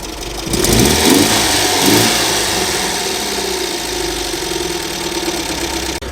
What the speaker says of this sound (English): Well, that's the MGB going again.